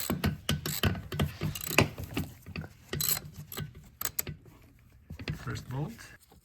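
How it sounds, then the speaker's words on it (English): Ratcheting clicks and metallic mechanism sounds from a wrench loosening a thermostat bolt on a 2004-or-newer Saab 9-3, a close series of quick irregular clicks with a voice talking over parts of it. "we're removing the first"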